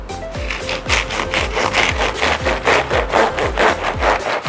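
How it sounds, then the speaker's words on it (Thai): A serrated bread knife saws back and forth through a hard raw artichoke, cutting off the top third of the head. It gives about a dozen loud, rhythmic rasping strokes close up, with no talking. "จะได้ยินเสียงว่ามันแข็งมากนะคะถ้าใช้มีดธรรมดานี้ ไม่ออกแน่นอนนะคะ"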